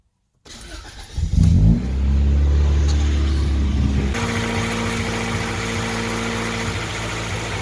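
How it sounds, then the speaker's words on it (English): Silence, then a DB1 Acura Integra engine cranks and catches after a thermostat replacement, revving up loudly before settling into a steady idle hum that continues to the end. "I think we turn the car on now and see if it's happy."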